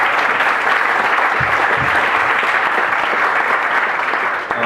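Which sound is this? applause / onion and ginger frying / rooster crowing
applause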